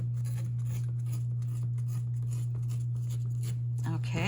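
An old book page being torn out after being folded, a soft ripping and rustling of dry paper over a steady low hum, with a brief voice near the end.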